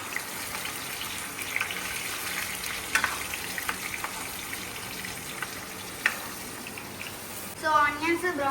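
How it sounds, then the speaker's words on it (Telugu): Ground onions frying in about 150 ml of oil on a stovetop, giving a steady, close, loud sizzle with a few scrapes of stirring and a brief watery gush near the end. "సో ఆనియన్స్ బ్రౌన్ అయ్యే వరకు ఫ్రై చేద్దాం."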